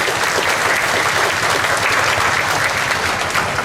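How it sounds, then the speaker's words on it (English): A crowd claps steadily at a Hmong festival in Wausau, dense, even applause filling the whole stretch at a constant loud level. "One more round of applause,"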